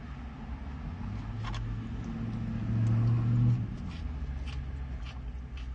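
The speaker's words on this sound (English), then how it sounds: "I think a loud car was revving his engine next to me again." Car engine revving nearby on a street, a low droning rumble that swells to a louder sustained peak and then eases back, heard under faint background noise with no talking.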